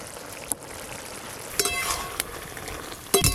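A utensil stirs water lilies cooking with chilies in a pan in a home kitchen, producing a soft sizzle with a few sharp clinks of metal against the pan, faint and close.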